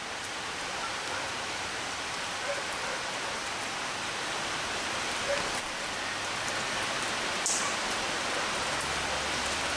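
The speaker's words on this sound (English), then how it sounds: "Man, it is still flipping pouring." Heavy rain pours outdoors in a steady, dense hiss with no break, loud and close, near an old truck with almost 350,000 miles on it.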